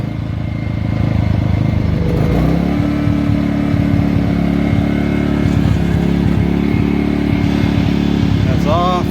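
A Ryobi 1800W/2300W inverter generator runs steadily on its first start, a loud continuous engine drone with a shift in pitch partway through as it settles, and a few faint clicks over the hum.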